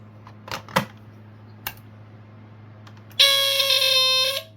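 A few scattered clicks and taps, then a smoke alarm bursts into a loud, shrill, piercing electronic tone that continues to the end.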